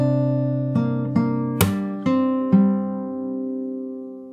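A fingerstyle guitar plays a passage from a song, several plucked notes and chords struck a beat apart, close and clear with no voices, the final notes left to ring.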